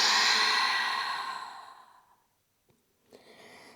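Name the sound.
exhaling breath through open mouth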